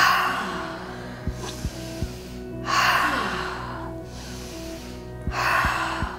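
Deep breathwork inhales and exhales, three long airy breaths rising and falling in a slow rhythm, close to the microphone over a soft background of sustained tones with a few light knocks.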